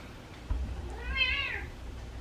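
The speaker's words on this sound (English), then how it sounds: "and that's what the cat says." A single drawn-out cat meow rises and falls clearly and fairly close, standing alone over a quiet indoor background.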